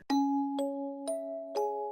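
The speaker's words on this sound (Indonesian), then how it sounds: "terus tiba-tiba itu bel bunyi" A two-tone doorbell chimes four times in a quiet house dining room, each bright struck tone ringing on and overlapping the next, clear and close with no talk.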